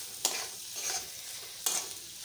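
Boiled eggs being stirred and fried in a pan with onion-garlic masala, salt and coriander, giving two or three short scraping stir strokes over a soft steady sizzle, close and fairly quiet.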